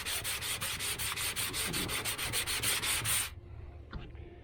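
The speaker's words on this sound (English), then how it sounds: "you just go over all the areas with 80 grit, blocking it" Hand-blocking a hail-dented panel on a 2009 Mustang with 80-grit sandpaper gives quick, even rasping strokes, about five per second, close and steady for three seconds before stopping abruptly.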